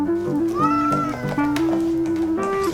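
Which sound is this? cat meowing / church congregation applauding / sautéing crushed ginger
cat meowing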